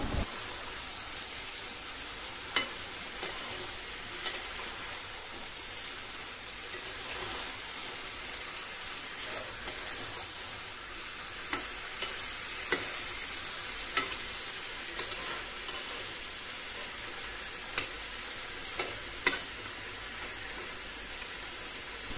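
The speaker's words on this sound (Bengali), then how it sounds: "তো সব কিছুকে একসাথে ভালো করে কষিয়ে নিলাম।" Vegetables with sliced green chili and a pinch of sugar being sautéed and stirred together in a pan, giving a steady soft sizzle with occasional light clicks of a utensil against the pan.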